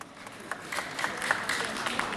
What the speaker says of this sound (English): Give me a nice clap there.